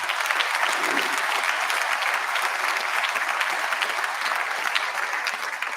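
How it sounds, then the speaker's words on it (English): A concert audience applauds a middle school honors band, the clapping dense, even and sustained from start to finish. "please give them a round of applause for doing that"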